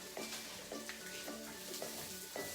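Onion rings sautéing in a pan, with a steady, close sizzle broken by a few light stirring scrapes every half second or so, no voices.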